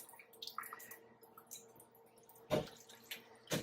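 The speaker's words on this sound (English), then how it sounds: "Drain mostly of the water." Water draining and trickling out of rinsed lasagna ingredients in a kitchen, soft wet drips and splashes with a couple of louder sloshes near the end, close but quiet.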